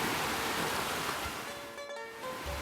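Ocean surf washing steadily onto a shore, a continuous broadband rush of breaking waves with no voices, holding an even level throughout.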